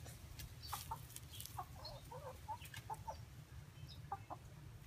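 Chickens cluck in short repeated bursts, faint and somewhat distant, over a steady low background hum outdoors around a chicken yard.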